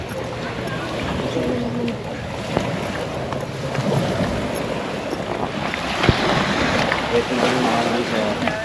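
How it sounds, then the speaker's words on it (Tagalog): A speedboat cuts across the sea off Boracay, its motor droning beneath a steady roar of wind and splashing water, with occasional thumps as the hull hits waves. "may sarili kaming speedboat na kaming dalawa lang ang sakay"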